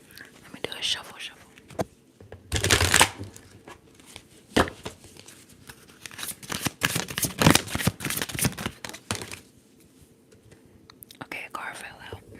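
Tarot cards shuffled in bursts of crisp riffling and soft shuffling, close and quiet, with a whispering voice drifting in between the shuffles.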